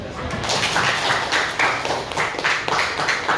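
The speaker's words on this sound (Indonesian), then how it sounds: "ya tepuk tangan dulu" A class of pupils claps hands in unison at a teacher's cue, giving a run of sharp, overlapping claps of fairly steady strength across the room, with a little voice mixed in.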